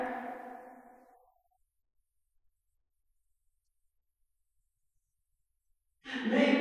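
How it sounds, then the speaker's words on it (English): A sung vocal line treated with a wide, phase-shifted ghost reverb fades into a long smeared tail, then near silence, before another reverberant vocal phrase cuts in loudly at the end. "let's just listen to the reverb with and without"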